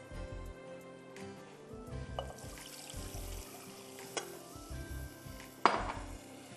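Milk going into a white sauce base for lasagna seasoned with a chicken stock cube, heard as a gentle trickling pour amid nearby clinks of pots and cutlery, with one louder knock toward the end.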